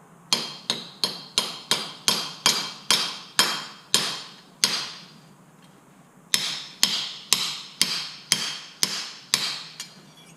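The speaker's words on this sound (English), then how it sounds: "I'm going to try hammering at this a little more, see if I can just bend it into shape here." Repeated sharp metallic hammer strikes on a copper-coated zinc disc being bent into shape, a steady run of close, ringing blows, a brief pause, then another quicker series.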